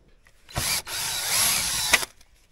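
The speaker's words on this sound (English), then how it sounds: "we'll put it this way for drilling rivets" A power drill bores out rivets on a fiberglass hood from a vintage Polaris TX snowmobile, one loud, steady whine lasting about a second and a half, close by and heard without speech.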